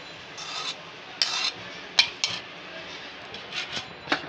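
Chicken pieces are hand-mixed in a bowl with flour, half an egg and black pepper marinade, producing soft, irregular squishing and rubbing scrapes that sound close but faint.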